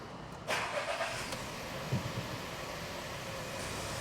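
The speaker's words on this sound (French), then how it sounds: "Fait un bruit de casserole un peu cette voiture" A car in motion, its steady broadband road and engine noise running throughout at moderate level, with a brief louder rattle-like clatter near the start and another around the middle, fitting a loose saucepan-like rattle.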